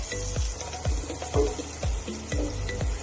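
Finely ground paste for an ivy gourd and onion-chilli dish fries in a hot pan, a loud sizzle broken by rhythmic stirring scrapes roughly every half second.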